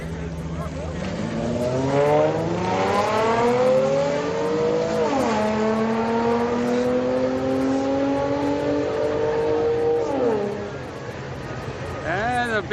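A V6 Camaro and a Mini Cooper street race on a street car night, engines revving in long rising sweeps that drop sharply at each shift, with faint voices in the background.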